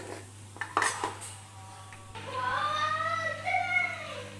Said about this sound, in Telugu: ఆనియన్స్ అన్నీ వేసి కలుపుకుందాం.